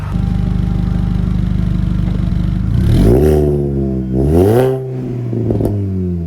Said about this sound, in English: The really loud car, by the way, is my dad's Mini Cooper S.